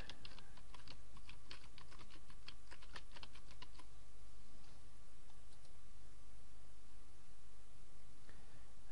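A computer keyboard clatters as a YouTube search is typed, a quick run of close key taps for about four seconds, then a quiet hum with a few scattered clicks.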